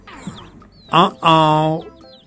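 Faint, high chicks cheeping in short descending peeps, partly covered by a person's voice speaking up close.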